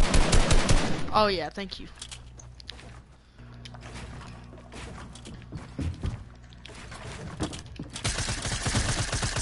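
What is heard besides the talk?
video game gunfire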